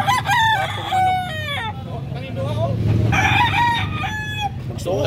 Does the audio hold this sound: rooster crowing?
yes